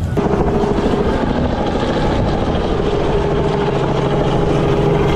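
A helicopter flies over a hillfort in Kuldīga, Latvia, its loud, steady rotor thud and engine roar continuous and close throughout, with no talking.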